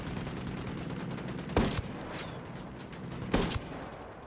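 Rifle fire in Ghost Recon during a Team Rainbow mission in Bolivia, two sharp bursts a couple of seconds apart over a constant noisy battlefield background.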